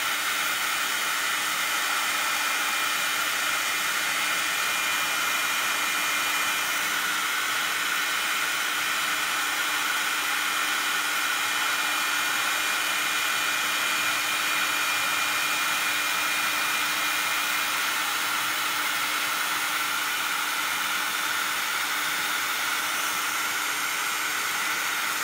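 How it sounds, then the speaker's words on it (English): Embossing heat tool blowing hot air, a steady loud whooshing hiss held close and unbroken throughout, with no talk over it. "All right, so we're gonna just heat up our embossing tool."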